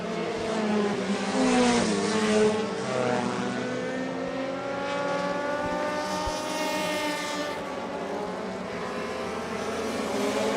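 Modified race cars roar down the back straightaway at County Line Raceway, engines droning loudly and continuously with rising and falling pitch as the pack passes.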